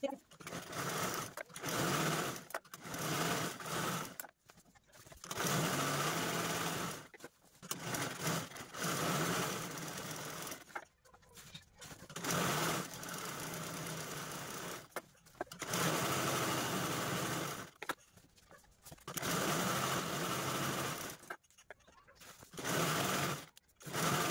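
A sewing machine runs in repeated bursts while quilting diagonal stitch lines across fabric, each run several seconds long and separated by short pauses, close and steady, with someone talking over it.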